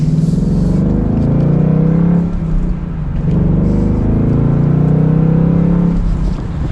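A Ford Mustang GT Convertible Premium's engine and exhaust drone steadily while driving, a loud low rumble that swells slightly at times, with no talk over it.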